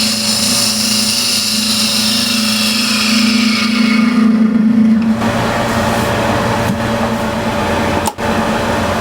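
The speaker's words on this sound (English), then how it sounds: "Cut with the spindle gouge" A spindle gouge cuts wood on a lathe, making a steady loud whirring hum that changes tone partway through, with a brief dip near the end.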